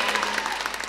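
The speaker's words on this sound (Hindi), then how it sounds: "अब मेरे लिए तालियां बजाएं।" A studio audience on a talk show bursts into short, brisk applause, a brief patter of claps heard on its own.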